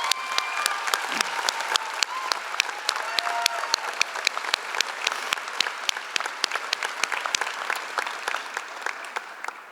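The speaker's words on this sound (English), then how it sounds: "Please join me in another round of applause for the choral leaders." Steady applause from a graduation ceremony audience honoring the choral leaders, dense and sustained clapping with a few sharper claps standing out throughout.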